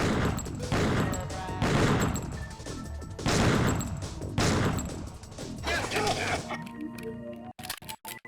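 Gunshots in the video game Killer7 ring out in a rapid, loud series of sharp cracks and crashing impacts, followed by a few scattered clicks and quieter hits at the end.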